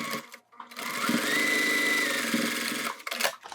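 A sewing machine stitches the bottom seam of a zipper wallet in one continuous close run, its motor whirring steadily for a couple of seconds with brief handling noises before and after.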